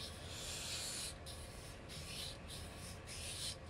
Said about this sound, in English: This is some Harbor Freight. It's not that abrasive sandpaper because it's Harbor Freight special